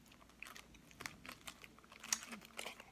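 Someone crunching on edible larvae, with crisp irregular bites and chewing clicks up close, quiet and unvoiced, each crunch a short sharp crackle.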